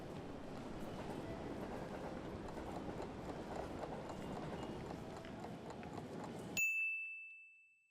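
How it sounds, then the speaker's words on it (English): A train passes through a railway station in Finland, a steady broad rumble of rolling wheels and carriages that runs for several seconds before an abrupt ding-like chime cuts in and rings out as it fades. "Varokaa ohittavaa junaa."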